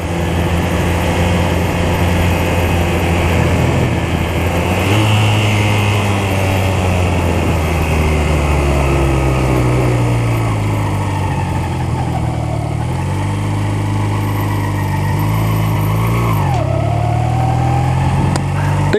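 Ridden vehicle's engine accelerating in gear, loud and close, its droning pitch climbing steadily before briefly dipping near the end and rising again.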